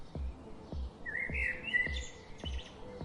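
A bright, warbling lyrebird song with sliding whistles and chirps, repeated over a low rhythmic thumping in the background.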